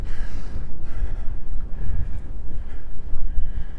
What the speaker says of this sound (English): the wind's coming right across the lake there, and it's quite sharp